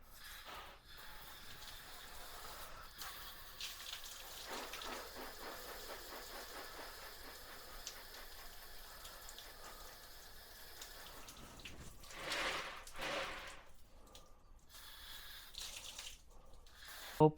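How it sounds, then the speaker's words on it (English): Water poured over a freshly repotted bonsai on a slab, a soft steady splashing and trickling close by that continues for most of the stretch, with a few brief louder gushes near the end. "Let me water it."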